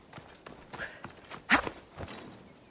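Horse hooves clip-clop in the video game Assassin's Creed Odyssey, a few uneven, fairly faint steps with one sharper louder strike midway, over a quiet background.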